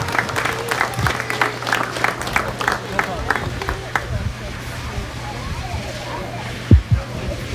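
Spectators at a hog show ring clap in an even rhythm for about four seconds for the exhibitors over a low steady hum, then the clapping fades into crowd noise and talk.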